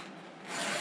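A file rasps lightly across chainsaw chain teeth in one short, close stroke that grows brighter and louder toward its end, with no voices.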